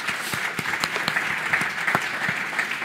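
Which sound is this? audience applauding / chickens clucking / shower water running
audience applauding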